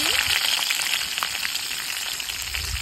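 Chopped onion fries in oil in a wok with whole spices such as cardamom, cinnamon, bay leaf and cumin, producing a steady close sizzle with light crackles throughout and no voices over it.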